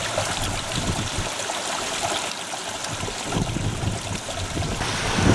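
The young River Noe flows beneath a narrow stone bridge in the Peak District near Edale, giving a steady, close rush of moving water with no voices.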